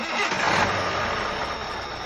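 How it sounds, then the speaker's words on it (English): A truck engine cranks and catches, settling into a dense, steady running roar that fills the short span without any voices. "Joe started the engine, and the journey began."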